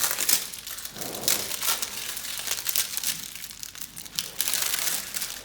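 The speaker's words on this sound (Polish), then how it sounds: "Ona jest zapakowana w taki foliowy worek z naklejką, który oczywiście musimy odpakować." A plastic foil bag with a sticker, holding a block of Himalayan salt, is pulled open in close, continuous bursts of crinkling and crumpling.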